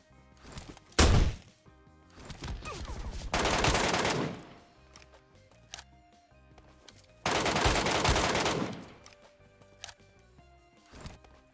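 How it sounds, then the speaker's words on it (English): SLR rifle fire from the video game PUBG Mobile Metro Royale comes in three loud bursts of rapid, cracking gunshots, one brief and two longer volleys, spaced across the clip over quiet game music. "This guy's just shooting an SLR at me."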